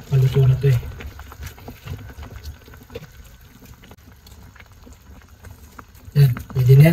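Spicy fish roe soup boiling over in a pot, a steady bubbling and sputtering patter, with louder stretches at the start and end where people talk.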